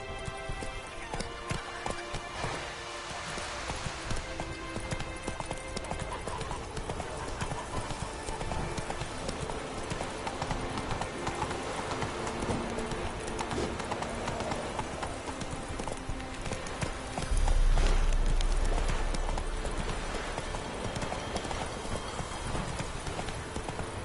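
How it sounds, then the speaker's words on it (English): Hooves of a horse galloping steadily in The Witcher 3 video game, a continuous close clip-clop rhythm over game music, briefly louder near the end. "Giddy up. That's it, Roach."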